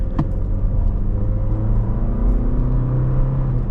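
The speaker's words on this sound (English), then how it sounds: "this engine, it certainly doesn't care. It's grumbly, it's kind of loud, it's not real smooth." Toyota Tacoma SR5 with the 2.7 liter four-cylinder engine grumbling under way, a steady, rough low rumble with rising engine tones, fairly loud and close inside the truck, with no talk.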